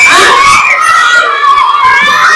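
Children shouting and screaming together in a loud, sustained burst, a group of young voices at a storytelling session.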